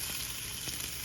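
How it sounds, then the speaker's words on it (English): Italian sausage and ground beef fry in a pan for meat sauce, giving a short burst of steady close sizzling with a couple of faint pops, alone without any voice. "I'm gonna go ahead and add my pound of Italian sausage and my pound of ground beef"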